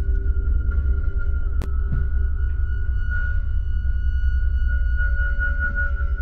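A steady, high tinnitus-like ringing tone from the Escape the Clinic puzzle game holds unbroken for the whole stretch, sitting over a low rumbling game ambience with one brief sharp click partway through and no speech.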